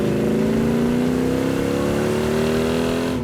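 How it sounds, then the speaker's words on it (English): A 1967 Hemi GTX V8 engine with dual quads revs steadily upward with a deep, throaty growl, loud and close, the pitch climbing smoothly throughout. "That is one snarler of an engine."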